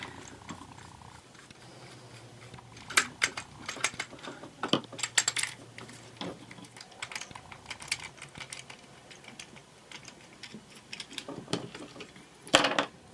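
The wheels of a refurbished toy action robot turn by hand, giving irregular small clicking and ratcheting taps, close but fairly quiet, with scattered louder clicks and a low hum early on.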